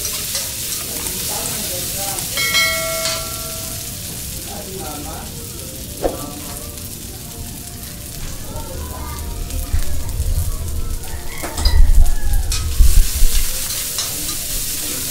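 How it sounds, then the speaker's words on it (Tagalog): Tomato paste sizzles and is stirred in a hot pan, with a steady frying hiss, occasional scraping stirs and a low rumble building toward the end, under intermittent talk. "Kailangan igisa natin kasama yung tomato paste mga master no"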